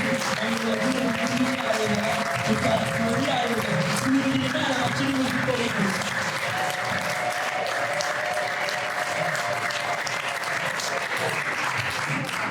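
A church congregation bursts into loud, continuous clapping that holds steady for several seconds before easing, close and full, with a voice speaking through the first half.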